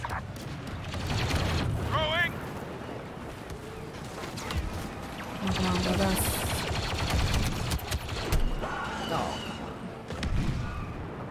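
Covering fire aimed at walkers in a Star Wars video game, with bursts of blaster-style gunfire and mechanical clatter rattling throughout over a busy battle din, and a voice talking over parts of it.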